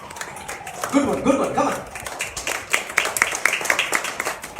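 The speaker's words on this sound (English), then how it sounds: "Give a clap of it to God." A church congregation claps in praise, with scattered clapping and a few voices calling out over it. The applause swells in the middle and carries on irregularly to the end, mixed with talk and chatter nearby.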